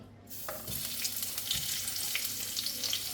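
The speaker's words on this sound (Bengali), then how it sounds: "এক চামচ ঘি দিলাম এবার আমি পেঁয়াজটা দিয়ে দেবো" Onion dropped into a spoonful of hot ghee: after a brief quiet moment the frying bursts into a steady hiss with crackles and light stirring, close and fairly soft.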